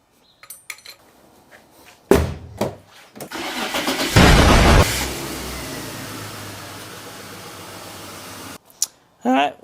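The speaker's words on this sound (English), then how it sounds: "we'll start the car up" A BMW E36 starter cranks briefly before the engine catches with a loud surge, then settles into a steady idle, with faint voices before and after.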